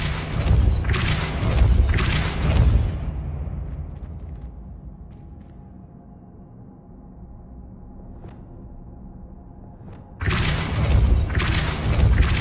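A Depulso spell blast from Hogwarts Legacy: heavy booming bursts at the start, a long fading rumble and quiet stretch, then another loud thudding blast near the end.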